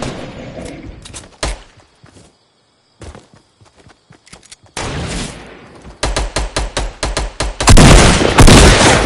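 Gunshots in a PS4 shooter video game, scattered single shots and short bursts that build into rapid, loud, repeated automatic fire near the end.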